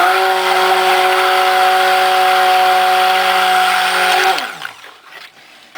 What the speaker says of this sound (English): My soap blender.